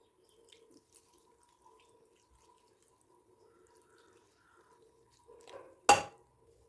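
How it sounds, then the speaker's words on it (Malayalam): Water from a glass is poured into a spinach and raw mango curry in a pressure cooker, a short splashing pour arriving near the end after a long, nearly silent stretch. "കൂടെ ഒരു ഗ്ലാസ് വെള്ളം ഒരു ഗ്ലാസ് വെള്ളവും ഒഴിക്കുന്നുണ്ട്"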